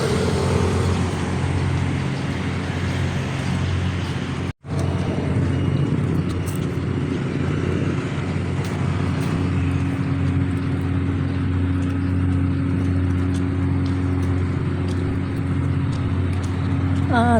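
A generator runs loud and steady during a power outage at a youth camp in Zambales, a constant low mechanical drone with a brief dropout partway through and faint background activity.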